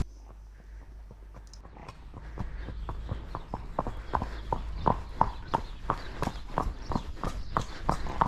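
A clipped, ridden cob horse walks along with a steady, even clip-clop of hooves. The hoofbeats are close and grow louder and more distinct as the walk settles into rhythm, with no talk over them.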